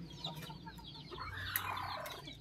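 Newly hatched chicks call from nearby in a series of high, thin chirping peeps that overlap irregularly over a faint background.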